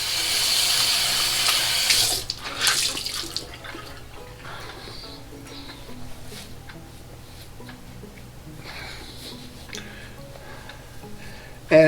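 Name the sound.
cold tap water running for rinsing after shaving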